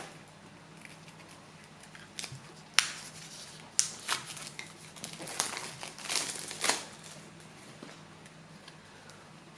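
Plastic packaging on an oracle card deck with dragon artwork crinkles and tears in scattered bursts, with sharp crackling peaks against a quiet room and no talking.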